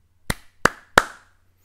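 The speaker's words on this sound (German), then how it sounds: "Lass uns dreimal klatschen." An audience claps three times in unison, three sharp, evenly spaced claps that stand out against near silence, each ending in a short ringing tail.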